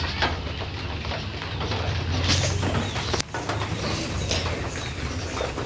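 Pigeons coo softly near a tree during steady, fairly heavy rain, their low calls half-buried under the constant hiss of falling water, with no one talking.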